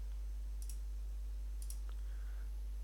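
Mouse buttons click quietly while cycling through Photoshop layer comps: two or three faint, isolated clicks spaced about a second apart over low steady room hum.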